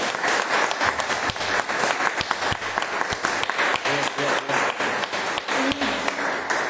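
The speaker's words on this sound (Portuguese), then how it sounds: "uma salva de palmas para todos vocês" Audience applause at a family gathering, sustained clapping from a crowd filling the whole stretch with steady, dense claps, some voices faintly underneath.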